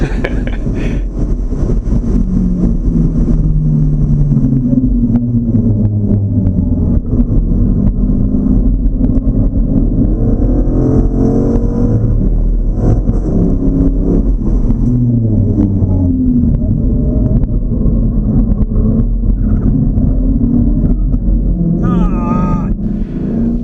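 A race car's engine drones loud and continuous at a raceway, its pitch rising and falling as it pulls down the straightaway, heard from on board with heavy wind buffeting throughout.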